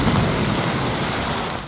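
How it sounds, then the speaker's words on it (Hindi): Heavy monsoon downpour in Punjab, a dense, loud, continuous roar of rain with a deep rumble of thunder underneath, steady throughout without talk. "पंजाब के कई इलाकों में मूसलाधार बारिश से जल थल एक हो गया।"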